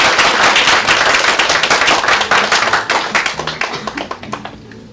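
An audience at a school admissions information session breaks into loud, dense applause to welcome a teacher, the clapping starting strong and gradually thinning out toward the end.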